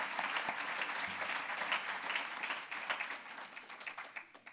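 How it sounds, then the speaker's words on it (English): Warm applause from an audience at the Noorthoek Academy 2014 celebration, a full round of clapping for a committee that stays steady, then thins into scattered claps as it fades. "Let's give a big round of applause to that committee."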